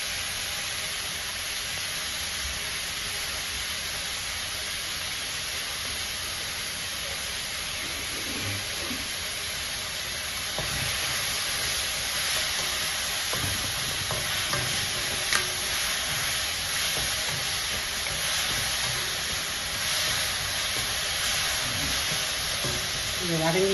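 Ingredients sauté in oil with salt for a chicken and prawn gravy, giving a steady, even sizzle and hiss that runs throughout. Occasional stirring scrapes and clinks break through, and a voice speaks faintly at times.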